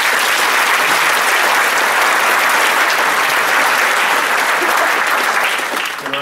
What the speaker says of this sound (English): I take it from that round of applause that there are no objections?